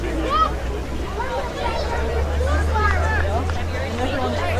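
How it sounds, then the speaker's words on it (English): Stadium crowd at a women's rugby match between the ACT Brumbies and the SA Black Falcon, a steady murmur of chatter filling the background beneath a voice talking throughout. "Crowd, you can hear them in the background filling up."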